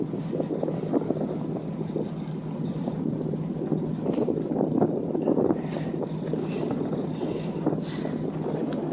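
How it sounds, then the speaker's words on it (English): Steady, rough wind buffets an outdoor microphone throughout, a dense continuous rumble with gusty swells and no voices. "I don't know how loud the wind is."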